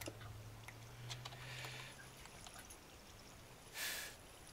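Water flows in a stream within the Minecraft video game, a soft trickling and pouring texture with a low hum early on and a short, louder splashy burst near the end, without any talking.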